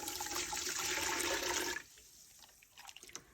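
Hot water pours and rushes loudly for under two seconds, then stops, leaving quiet drips and small splashes afterward.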